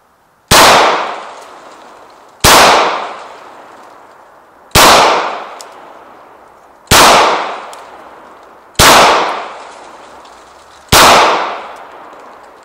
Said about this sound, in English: Just going to fire some rounds out, see what happens.